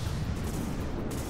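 Cram cannons firing during a battleship battle in the video game From the Depths, a dense, booming roar of heavy fire filling a short stretch without a break.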